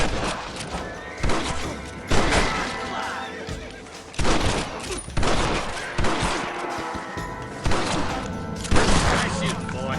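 Gunfire during a Red Dead Redemption shootout at a house, repeated loud bursts of shots in clusters alongside horse whinnies and hoofbeats, with voices talking in between.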